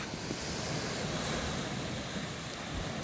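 Sea surf washes steadily at the foot of a coastal cliff on the Wolin coast, the beach below only a few metres wide, heard as a continuous broadband roar mixed with wind buffeting the microphone, with no voices.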